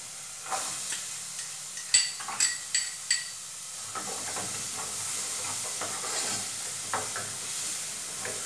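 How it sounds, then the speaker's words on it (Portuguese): Onion and garlic hitting frying sausage in a pan, a quiet bed of sizzling broken by several quick bright clinks and scrapes of a utensil. "Agora que a linguiça já deu uma, uma fritadinha, eu vou juntar o, a cebola com o alho"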